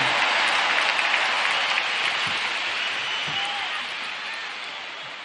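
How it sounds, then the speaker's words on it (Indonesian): A large crowd at an Anies-Muhaimin campaign rally in Jakarta International Stadium applauds for Gus Muhaimin, a sustained, dense wash of distant clapping that eases slightly toward the end. "Tepuk tangan dulu yang meriah untuk Gus Muhaimin."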